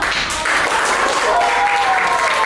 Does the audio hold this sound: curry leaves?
no